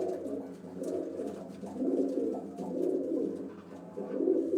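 Pigeons coo on a rooftop in Gujranwala, giving a soft, continuous, rolling murmur of overlapping calls from a flock close by. The calls swell and ebb in waves with no talking.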